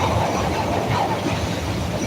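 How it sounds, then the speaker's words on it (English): A Chicago CTA Red Line train rumbles along the track with steady, loud clattering wheel noise and a faint metallic squeal, no voices present. "This is a red line train to 95th."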